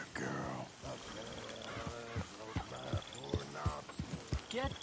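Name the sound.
horse hooves clip-clop in video game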